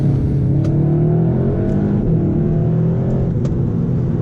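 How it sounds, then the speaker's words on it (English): A 2019 SEAT Leon Cupra accelerates hard, its engine note droning and rising steadily from inside the cabin, loud and continuous with no talking. "it gets up to 60 miles an hour very quickly, even though it's just front wheel drive"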